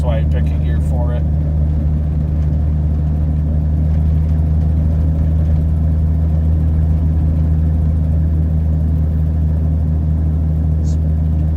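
A 1982 Ford F-150 pickup truck drives slowly along a slick, slushy road, its engine a loud, steady low rumble that fills the cab throughout, with brief talking near the start.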